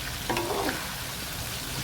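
Chicken pieces fry in a pan for a crispy chicken mango salad, giving a steady broadband sizzle that holds evenly for about two seconds.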